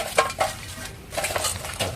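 Shredded coconut husk is dropped into a can as fuel for a herbal mosquito-repellent smoker, giving a few soft, close rustling and scraping bursts at a low level, with no talk.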